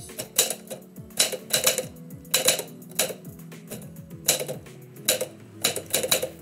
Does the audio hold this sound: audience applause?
no